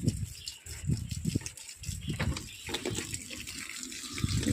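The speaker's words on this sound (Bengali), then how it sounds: "জল দিচ্ছি।" Water splashes and gurgles unevenly as tomato plants and other pots in a small home garden are watered, coming in close, rising and falling pours.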